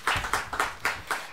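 An audience claps at a panel debate on school food at Litteraturhuset, a short burst of about six evenly spaced, crisp hand claps at moderate volume.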